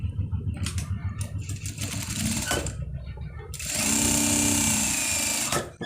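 A sewing machine runs in steady bursts while stitching a side pocket on a panjabi, with a rapid mechanical chatter that swells into a loud, continuous whir near the end.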